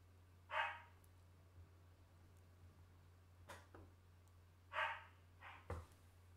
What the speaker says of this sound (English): Sorry guys, the dog's barking